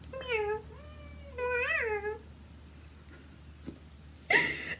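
A pet cat meows twice with long, rising-and-falling calls, close and fairly loud, followed by quiet pauses and a brief burst of noise at the end.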